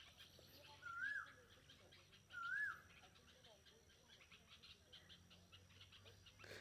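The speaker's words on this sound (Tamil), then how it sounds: "சுற்றி பறவைங்களோட சவுண்டு, மயில் சவுண்டு." Birds call in the open air, and two rising peacock cries stand out clearly over a faint background of chirps and low ambient noise.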